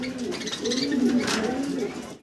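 A pair of black Lahori pigeons coo close by, soft low rolling calls rising and falling continuously before cutting off at the end.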